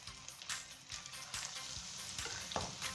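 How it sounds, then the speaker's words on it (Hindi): Malabar spinach (poi) leaves coated in a thin gram-flour batter deep-frying in hot oil over a medium flame, a dense continuous sizzle with bubbling crackle and occasional stirring scrapes, close and steady throughout. "एबे आमे पत्र को डीप करके एमती तेल रे पकेबा"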